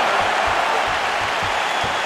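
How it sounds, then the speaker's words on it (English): A crowd applauds after a round in a UFC 4 video game bout, heard as a dense, steady wash of clapping and cheering that fills the whole stretch at high volume. "So the crowd voicing its appreciation after that round."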